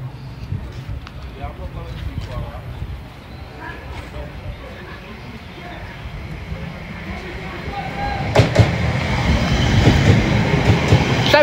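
A Greater Anglia 720115 train pulls into a station with a low rumble that swells as it approaches, and clatter from the wheels and rails builds toward the end as someone speaks over it.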